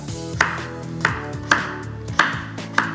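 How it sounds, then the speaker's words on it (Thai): A knife cuts through firm pumpkin five times at a slow, even pace, slicing pieces about one centimetre thick, each chop a crisp thud on the board, over a soft background hum. "หั่นเข้าไป ให้หนาประมาณ1เซนนะครับ"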